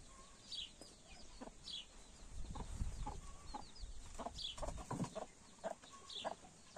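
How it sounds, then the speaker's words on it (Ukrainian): Naked-neck hens cluck softly over their chicks, repeated short low clucks mixed with thin high chick peeps, close but quiet, in an irregular, chattering rhythm. "і тут у нас курочка з другими курчатками"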